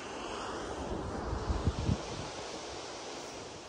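Sea waves wash onto the shore at Swansea with a steady, broad rushing wash. Wind buffets the microphone, and a few low thumps come near the middle.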